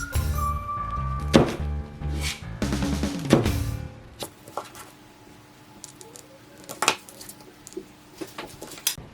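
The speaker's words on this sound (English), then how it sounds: "Now it's time to cut your young onion." A knife chopping young onion for a cucumber, tomato and avocado salad, a string of close, firm thunks on a cutting board, clustered in the first seconds and then sparser, with quiet handling between.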